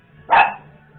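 A single sharp dog bark rings out close by at one moment, loud and brief, then fades back into quiet room hum; no one speaks over it.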